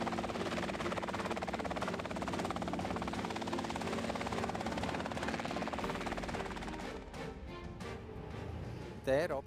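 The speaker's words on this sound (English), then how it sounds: "The R-22 is powered by a 180-horsepower four-cylinder boxer engine." A Robinson R22 helicopter with a 180-horsepower four-cylinder boxer piston engine drones steadily in flight, a loud continuous buzzing rotor and engine hum with a voice speaking over it throughout.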